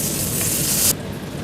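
Steady, loud sizzling of three fish frying in hot oil over a low flame, a bright crackling hiss that suddenly drops to a softer simmer near the end.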